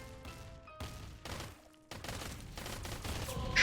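Rapid bursts of gunfire in a Roblox shootout game crackle in quick succession, dense and continuous, growing louder toward the end.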